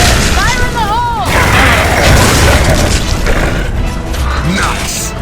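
A grenade blast in the video game Gears of War 3 booms loudly amid combat noise, with a shouted warning just before and game effects continuing afterward.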